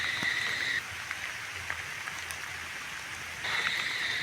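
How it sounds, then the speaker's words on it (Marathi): Steady monsoon rain patters continuously in a Konkan village, with a brief high insect-like tone at the start and end and no voices. "आज भरपूरच पाऊस लागतो"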